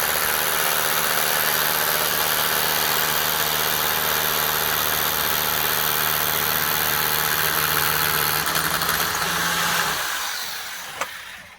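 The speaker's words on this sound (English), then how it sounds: "he drilled through his packer there" Power drill boring through a plastic window packer during a uPVC double-glazed window installation, a steady loud whirring drone for about ten seconds that cuts off abruptly near the end.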